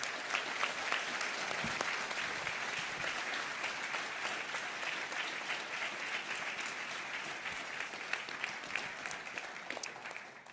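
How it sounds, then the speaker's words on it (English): A conference audience gives a sustained round of applause for the local organizers, a dense, even wash of many hands clapping at moderate distance, holding steady for about ten seconds and tapering slightly at the end. "we should give a really great round of applause to the local organizers."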